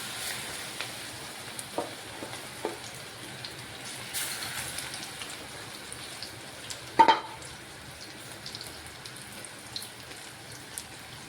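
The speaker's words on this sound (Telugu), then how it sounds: "మిగిలిన బేసన్లోని కొంచెం ఆనియన్ కూడా సన్నంగా తరిగి ఇవి కూడా ఎర్రగా వేపేయండి" Chopped onion fries in oil in a pan, a soft, steady sizzle with faint crackles and a few brief clinks, fairly quiet and heard without talk.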